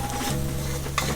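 Onions frying in a pan for a Mangalore chicken curry, a steady close sizzle with faint stirring scrapes, a brief louder rustle near the end, no talking.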